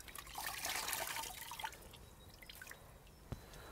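Water trickles and drips faintly from a green Jemako cleaning glove as it is wetted, a soft splashy patter with one sharper drip near the end.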